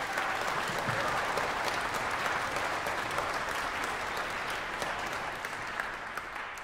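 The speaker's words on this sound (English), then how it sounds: "Let's give them another round of applause." A symphony orchestra audience gives a sustained round of applause for the trumpet and horn players, a broad crowd of clapping hands that holds steady and then gradually thins and softens toward the end.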